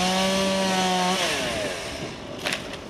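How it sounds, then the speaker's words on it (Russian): A loud, close gasoline chainsaw felling sturdy birch trees in a city-centre square in Nizhny Novgorod. The engine whines steadily, then its pitch drops as the chain bites into the wood and it fades to a rougher cutting rasp. "Но здесь под бензопилу пустили очень крепкие на вид березы."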